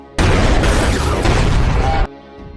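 A big film explosion bursts in abruptly, a loud roaring blast that holds for about two seconds before cutting off sharply into a quiet, low hum.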